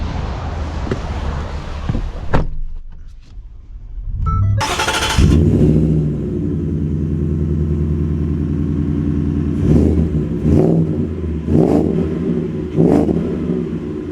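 An 800-horsepower Ford F-150 Shelby Super Snake Centennial truck fires up with a loud burst, then idles with a deep rumble broken by several sharp revs, close by and with no talking.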